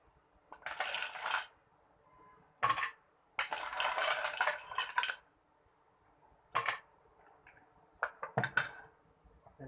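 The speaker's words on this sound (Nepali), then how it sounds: "आइस हाल्ने।" Ice cubes dropped into a mixer jar holding strawberry juice for a homemade mocktail, in several quick bursts of clinking, rattling clatter separated by short silences.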